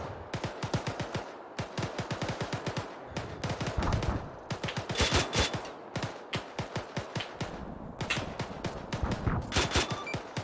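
Sustained automatic gunfire in the military shooter ArmA 3, long rapid bursts of loud, close shots with brief pauses, repeating throughout.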